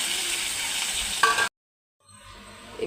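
Green chilies, curry leaves, onion and ginger garlic sizzle loudly and evenly in hot oil. The sound stops abruptly midway, then returns as a quieter, softer frying hiss.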